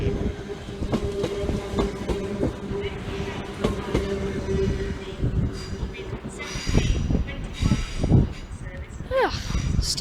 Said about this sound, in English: this is 323224, Northern Rail service to Stoke-on-Trent, departs platform 13